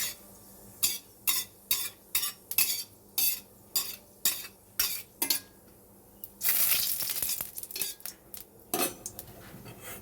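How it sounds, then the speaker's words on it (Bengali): Dried chillies and mustard seeds tempering in hot oil in a wok for a chutney: a spoon clinks sharply against the pan in a steady run of separate strokes, then a loud burst of sizzling and spitting takes over. "আমি চাটনি করতে প্রথমে আমি কড়াই তেল দিয়ে নিয়েছি, তারপরে শুকনো লঙ্কা আর সর্ষে ফোড়ন দিচ্ছি।"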